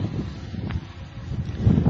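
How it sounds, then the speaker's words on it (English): Strong wind gusting across an outdoor field with trees and grass, a steady low buffeting roar with microphone wind noise that swells and dips, loud and close, with no speech. "the wind is very strong right now"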